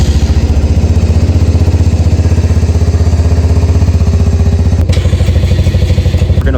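A cold Honda XR100 motorcycle engine starts and chugs loudly up close with a rapid, even putter, briefly jolting partway through before settling back into a steady run.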